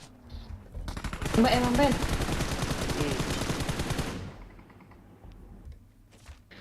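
Rapid automatic gunfire in PUBG Mobile rattles out in a dense burst lasting about three seconds, then cuts off abruptly, with players talking over the shooting.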